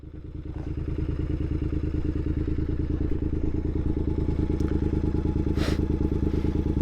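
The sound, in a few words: Triumph Bonneville motorcycle engine running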